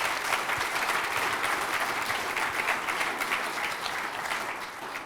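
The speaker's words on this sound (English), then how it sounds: "Please give them a round of applause as well." A crowd at a campaign launch applauds the speaker's children, steady sustained clapping from many hands, loud and even throughout with a faint murmur beneath.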